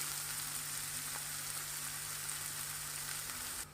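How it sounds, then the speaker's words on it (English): Chopped onion sautéing in a pan for a Goan beef xacutti, a steady close sizzle and crackle of frying that holds even throughout and drops off slightly at the very end. "Add onion. Let it saute for a while"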